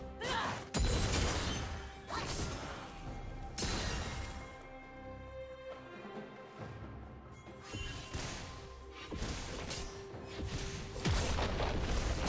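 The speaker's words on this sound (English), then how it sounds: "Blue team's turret has been destroyed." A turret collapsing in League of Legends, heard as heavy crashing and booming impacts that recur over several seconds amid dense, noisy game effects, moderately loud throughout.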